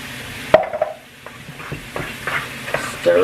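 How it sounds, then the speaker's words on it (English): A spoon stirs Rotel cheese dip in a pot, with a sharp clank against the metal, then several soft scraping strokes and thick, gloopy shifts at close range. "Stir it up a little bit."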